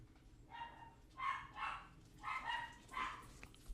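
Dog vocalising in a series of short, moaning yips and grumbles, roughly five bursts spread evenly across a few seconds, fairly near and moderate in level over a quiet indoor room.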